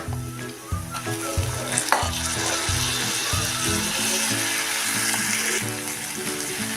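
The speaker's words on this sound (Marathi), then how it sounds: "तेलात चांगले आपण परतून घेऊया त्यात आता टाकायची आहे ही निचवून घेतलेली डाळ" Drained yellow masoor lentils go into hot oil with garlic chutney and are sautéed, producing a close, continuous sizzle and hiss that rises as they hit the pan, with light stirring scrapes throughout; no talking.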